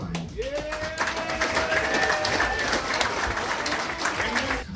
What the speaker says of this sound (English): Give a big round of applause for Wayne Burr.